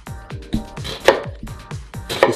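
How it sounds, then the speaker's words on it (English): A kitchen knife chops diced onion on a cutting board in quick, sharp, close knocks, about a dozen crisp strikes in an uneven rhythm with no talking. "Just cut through whatever width you want, how fine you want it diced, and you just start chopping afterwards."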